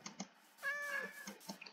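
A calico cat in Minecraft gives a single drawn-out meow, clear and close, set between a few soft clicks and taps.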